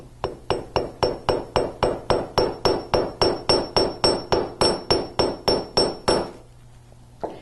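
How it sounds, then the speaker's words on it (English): A steady run of sharp metallic hammer strikes on wire laid on a steel bench block, about eighteen evenly spaced blows with a bright ring, then the pounding stops and a low hum remains. "now I plan to make a paddle with the hammer"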